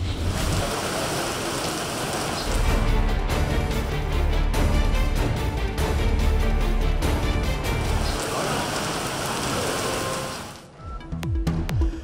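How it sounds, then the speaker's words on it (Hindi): Heavy downpour in Lahore hisses as dense, continuous broadband noise with a steady patter of drops, fairly loud throughout before dipping briefly near the end. "गुज़िश्ता रोज की मूसलाधार बारिश के बाद रात से बादलों की बरसात।"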